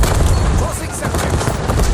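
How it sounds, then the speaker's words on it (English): Semtex grenade blast in a Call of Duty Black Ops 7 multiplayer hardpoint match, a loud booming burst mixed with ongoing gunfire and a game voice over it. "Tossing Semtex."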